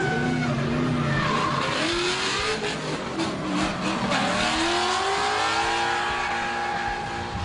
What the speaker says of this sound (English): There was some action showcasing some brilliant drifting ability on one of the tightest drifting circuits